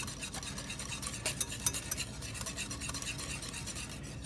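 Mustard and anchovies are worked together by hand in a bowl, producing quiet, rapid, rhythmic wet stirring and rubbing close by.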